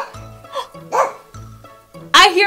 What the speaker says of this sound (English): I hear a bark!